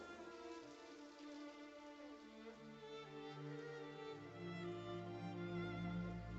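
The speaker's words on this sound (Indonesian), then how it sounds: "Lagi pula ini akan rusak dalam hujan deras seperti ini." Heavy rain falls steadily outside a house doorway, a dense, continuous wash with layered tonal background underneath and no talking.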